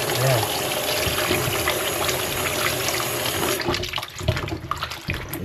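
Running water rinses pig feet being washed with lemon, a steady continuous splash and flow that stays loud and close throughout, with some clattering handling toward the end.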